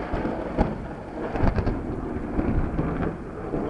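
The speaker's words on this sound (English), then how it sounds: "Lightning had just struck" Thunder rumbling through a rainstorm on a rainy day, with low booming surges and cracks over steady rain hiss, fairly close and loud.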